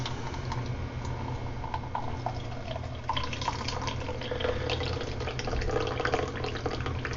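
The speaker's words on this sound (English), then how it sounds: "just simply pour your coffee" Coffee poured from a Stanley camp cook set, liquid pouring and splashing steadily over a low background hum, with faint clinks and drips, close up and continuous.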